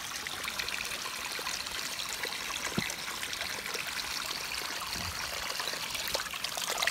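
Steady trickling drinking water runs continuously, a soft broadband wash with a couple of faint clicks, close by and uninterrupted, no talking.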